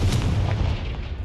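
A Confringo blasting spell exploding in the Hogwarts Legacy video game: a single deep, booming blast that trails off quickly.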